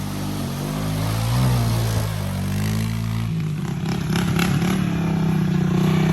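A Honda 300 6x6 ATV engine revving hard at full throttle outdoors, a loud close drone that shifts pitch midway and continues with a rougher, clattering note as the machine is pushed.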